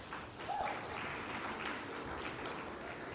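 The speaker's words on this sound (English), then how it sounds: "let's give Andy a round of applause" An audience at a scholar athlete awards ceremony claps steadily throughout, a soft, distant wash of applause in a large room.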